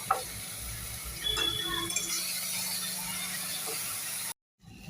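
Meat frying in a pan with turmeric, cumin powder and grated spices makes a low steady sizzle, with occasional clinks and scrapes of stirring before a brief dropout near the end.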